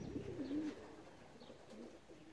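Racing pigeons, just back from a 561 km race from Sieradz, coo nearby in a low rolling call followed by a fainter second coo, with no talk.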